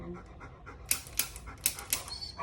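A senior dog pants quietly and rhythmically at close range, with a few soft clicking taps punctuating the quick breaths in an otherwise calm indoor setting.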